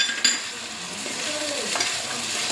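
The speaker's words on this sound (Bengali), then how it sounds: "পুরো পেঁয়াজ বাটাটা দিলাম। জাস্ট একটু কষিয়ে নিচ্ছি।" Onion paste sautés in a pan with a steady hiss and sizzle. A spatula scrapes and stirs through it, with a sharp clack near the start, heard close and alone.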